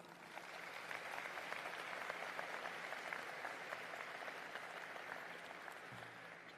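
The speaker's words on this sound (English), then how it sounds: "If we can give them a round of applause, please." Steady, distant audience applause fills a large arena hall at an international conference, a continuous even wash of clapping from a big crowd, fairly faint and sustained throughout.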